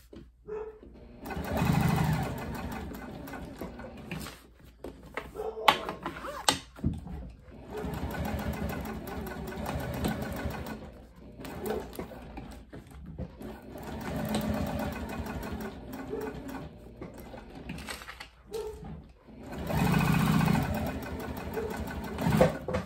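A home sewing machine runs in long steady bursts while top-stitching an all-cork coffin wallet, its motor whirring loud and close with brief pauses between passes, without speech.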